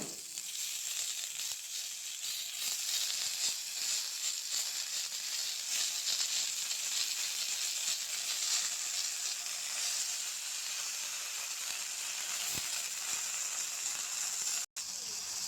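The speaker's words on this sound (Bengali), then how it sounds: "কড়াইতে সরষের তেল অল্প করে দিতে লাগবে। এই যে এখন আস্তে আস্তে এইভাবে বড়াগুলো দিয়ে দেব।" Ilish shutki bora fry in a shallow layer of mustard oil in a kadai, an even, continuous close sizzle with a crackly hiss lasting throughout, with no voices.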